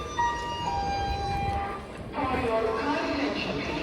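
Crowd noise and murmuring voices inside a busy commuter train, with a tonal whine from the train fading midway and a rumbling carriage underneath.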